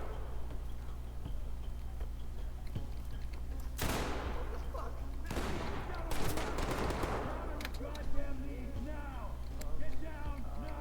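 Gunfire in a first-person video game shooter, several bursts of shots breaking out over a steady background hum while players talk over voice chat.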